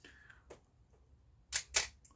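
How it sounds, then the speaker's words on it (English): A Minolta XG-E film camera fires its shutter, making two quick, crisp mechanical clicks close together, near and fairly loud, after a few softer handling sounds in a quiet room. "so you can see the difference in shutter speeds"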